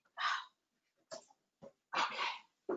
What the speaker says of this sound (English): now my dog's gonna bark because I think my husband just came home